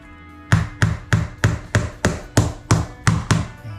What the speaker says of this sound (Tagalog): Tsaka dito, lagyan natin ng pako.